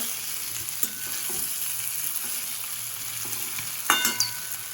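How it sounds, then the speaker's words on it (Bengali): Potatoes frying in a pan sizzle steadily and close, with a few scraping stirs and a sharper clatter near the end. "দেখো আলুগুলো একটু ভাজা ভাজা হচ্ছে"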